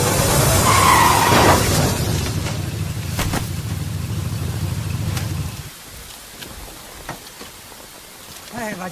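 A car skids with a loud, close roar in the rain after its brakes fail. The noise cuts off sharply, leaving quieter rain and scattered knocks.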